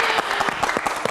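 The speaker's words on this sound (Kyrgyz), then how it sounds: "кошулгандар кол чаап койгула" Studio audience clapping together on a Kyrgyz matchmaking show, a brief burst of steady applause close and fairly loud.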